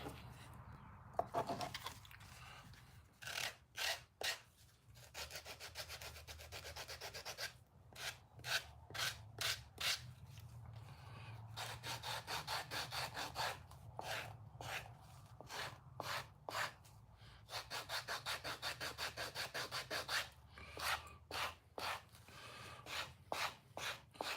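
Handmade wooden cutlery being sanded by hand, rhythmic bursts of rasping back-and-forth strokes in quick runs with short pauses between them, close and steady, with brief low murmurs now and then.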